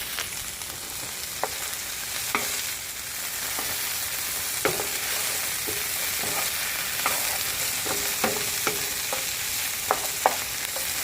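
Onion frying in a pan alongside okra and tomatoes makes a steady close hiss, broken by irregular scraping clicks as a spoon stirs and knocks against the pan.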